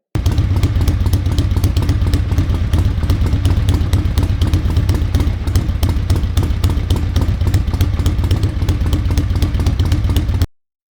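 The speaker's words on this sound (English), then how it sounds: "that engine RPM would pick back up to where it had been idling at" A Harley-Davidson Ironhead Sportster engine idles steadily up close, a continuous low rumble with rapid even clattering pulses and no voices.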